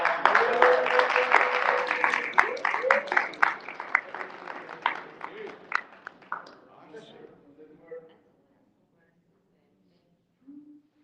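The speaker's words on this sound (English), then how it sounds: "I want y'all to just give her a big round of applause" An audience gives a round of applause at a Kwanzaa gathering, dense clapping with some voices that thins out and fades to silence after about eight seconds.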